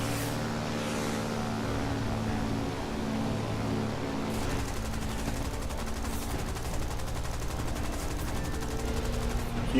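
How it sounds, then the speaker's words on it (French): Gunfire crackles from every direction during a War Thunder battle with early French fighters, a dense steady wall of shots and engine drone that thickens after the first few seconds. "Vous voyez que ça tire, ça flingue de tous les côtés."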